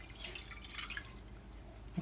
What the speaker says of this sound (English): get some cold water there.